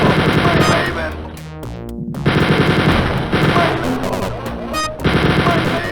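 A chain gun in Wolfenstein 3D rattles off loud, rapid bursts of machine-gun fire, pausing briefly amid a descending sweep before hammering on again in dense, continuous volleys.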